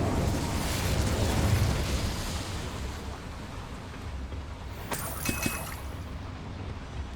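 The Incendio fire spell in Hogwarts Legacy lets out a whooshing, rumbling burst of flame that fades into a steady roar, with a few faint clicks later and no voices.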